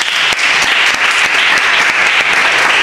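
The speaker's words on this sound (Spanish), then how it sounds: "¡Un aplauso para los 100!" Dense, loud applause from a studio audience at a Spanish-language show in Marbella, a steady wash of many hands clapping close by without a break, with no voices over it.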